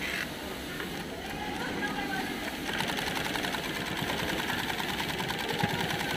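A Juki double-needle industrial sewing machine runs continuously in a workshop with a fast, even mechanical whir and clatter, fairly quiet and steady throughout.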